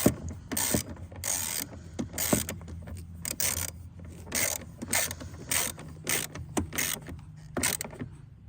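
A ratchet tightening bolts on the windshield wiper linkage of a 2015 Chevy Cruze, giving rapid bursts of close, sharp clicking separated by short pauses, with light metallic clatter in between.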